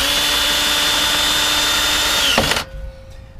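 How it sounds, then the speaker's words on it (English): A power drill screwing a bolt into a Jeep, one steady high whine for over two seconds that winds down abruptly and stops, leaving quiet. "To put this one in, you need to use a drill because it's have to screw it in."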